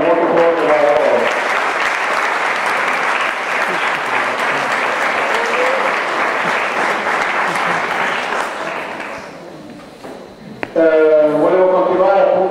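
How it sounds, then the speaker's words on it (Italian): An audience at a regional roller sports federation award ceremony in Piedmont claps loudly and steadily for several seconds before the applause fades out and a speaker's voice follows. "un applauso, veramente un applauso molto forte da loro"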